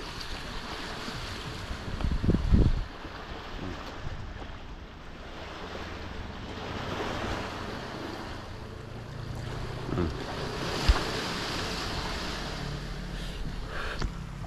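Surf washes steadily at a seaside resort cottage in Tuburan, Cebu, with gusts of wind buffeting the microphone and a few louder thumps, and no one speaking.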